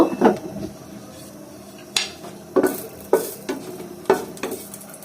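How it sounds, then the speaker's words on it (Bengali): Dry red chillies fry in a pan of oil for a bean-mash dish, a steady soft sizzle broken by several loud clanks and scrapes as a spoon stirs them against the pan. "এখন আমি কয়েকটা কাঁচা শুকনো মরিচ এর মধ্যে দিয়ে একটু ভেজে নেব"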